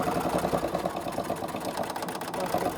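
A sewing machine stitches across a small fabric travel case, a short burst of rapid, rhythmic motor whirring and needle clatter heard up close at moderate volume.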